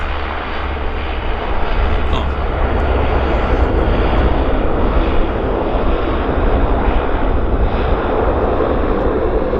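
A WestJet Link airliner operated by Pacific Coastal arrives at Vancouver airport, its engine roar steady and loud for the whole stretch, broad and rumbling with no voices over it.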